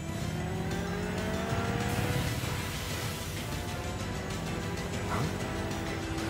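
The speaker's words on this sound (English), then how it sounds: "Oh, the bike scene." Motorbike engine from an animated Death Battle bike chase between Link and Cloud, a steady loud engine roar with revving and tire squeal throughout, no talk.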